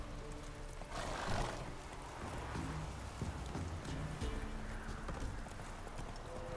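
In The Witcher 3 on Nintendo Switch, horse hooves clip-clop in an irregular rhythm amid a rumbling outdoor backdrop, with faint snorting and a low whinny mixed in.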